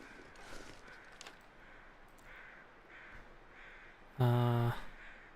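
Crows caw several times from a distance, faint calls spread across a quiet outdoor scene, before a short, loud tonal burst cuts in near the end.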